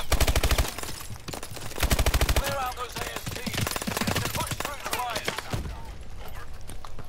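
Rapid bursts of automatic gunfire ring out in a shooter video game, heavy at the start and around two seconds, then give way to busier, mixed game sounds with continued shots.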